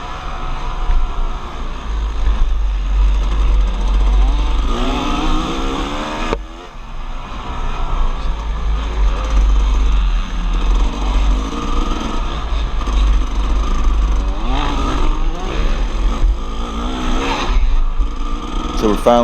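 The engine of a 2002 Kawasaki KX250 dirt bike drones loud and steady during a GNCC cross-country race, with other bikes mixed in and a voice talking over the engine noise.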